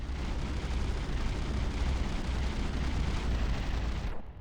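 An explosion goes off beside a battleship turret in the naval combat game From the Depths, producing a dense, continuous roar of blast and gunfire rumble that holds for about four seconds and then cuts off.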